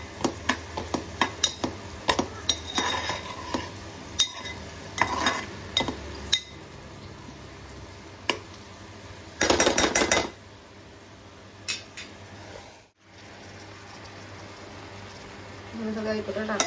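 A spoon scrapes and clinks against a pot while clam curry is stirred together with brinjal, potato and tomato, giving irregular metallic taps and rattles as someone talks over the cooking.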